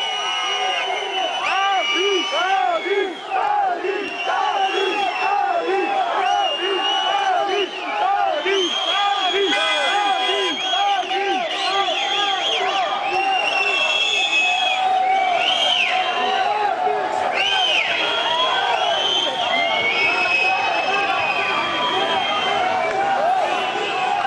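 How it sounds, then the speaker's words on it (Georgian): A large crowd in Gurjaani shouts, whistles and chants in protest at Bidzina Ivanishvili, a dense, continuous roar of massed voices with rising whoops and shrill whistles, loud and close throughout. "როგორ ხვდებიან ბიძინა ივანიშვილს გურჯაანელები სტვენითა და პროტესტით"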